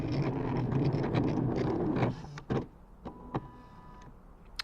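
An electronic cutting machine cutting a 1.5 inch butterfly shape, a whirring motor buzz for about two seconds, then a few short clicks and mechanical taps as it stops, heard close and fairly quiet.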